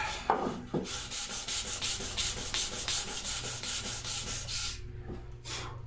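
Hand sanding wood with 220 grit sandpaper while building a shadow box, steady rhythmic back-and-forth rubbing strokes, close and moderately loud, no voices.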